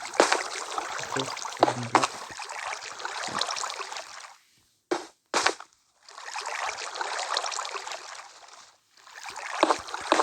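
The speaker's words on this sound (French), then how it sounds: "Désolé pour les bruits de l'eau, mais c'est pas de ma faute." Video-game water noise, rushing and splashing in long hissy bursts broken by sudden short silences and a couple of sharp clicks, with no voices over it.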